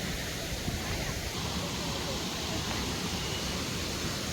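Kothapalli waterfall between Araku and Lambasingi, a steady broadband roar of falling water, loud and unbroken throughout.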